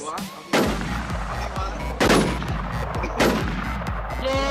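Gunfire in the online survival shooter Infestation during a PvP fight: repeated rapid shots with strong low thumps, several heavy bursts spread across a few seconds, loud and close.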